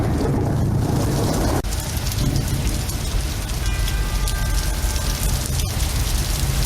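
Steady heavy rain pours down continuously, a dense hiss with a distant rumble underneath, and no voices.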